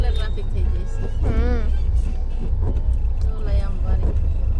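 Road traffic in a city street, with cars passing as a low, steady engine rumble. Voices talk over it and a tonal whine rises and falls briefly.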